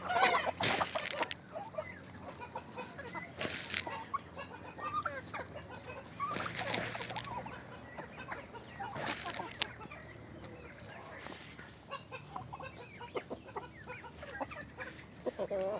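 Hungry Rhode Island chickens cluck and squawk steadily in a shaded farmyard under many trees, a busy flock close by with overlapping calls throughout.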